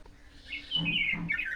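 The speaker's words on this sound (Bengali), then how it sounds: "পাখিদের আওয়াজ কিচিরমিচির" Birds chirp and tweet in trees in the morning, a few bright calls rising and overlapping in quick bursts, moderately close and fairly clear against a quiet outdoor background.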